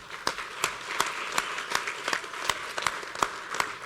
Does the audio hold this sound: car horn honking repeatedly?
no